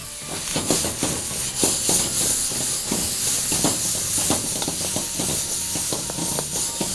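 Shrimp and half-cooked pork for pancit palabok sizzle loudly in a hot pan, a constant close hiss peppered with sharp crackles and pops, with no talking.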